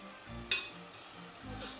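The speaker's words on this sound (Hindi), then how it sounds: "तब तक हम देख लेते हैं हमारा मटन, ये अच्छे से भुन रहा है।" Mutton browning in oil in a pan, a faint low sizzle with one sharp clink of a utensil partway through, close but quiet.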